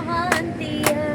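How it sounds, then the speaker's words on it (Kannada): Three separate bursts of hand clapping ring out at a relaxed, uneven pace over a steady background hum, each one brief and fairly close. "ಚಪ್ಪಾಳೆ."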